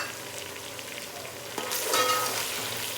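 Whole spices and mutton fry for pulao with a steady, close sizzle and crackle that swells louder halfway through as the pot is stirred, with no talking.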